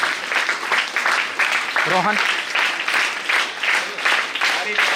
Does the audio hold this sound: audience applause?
yes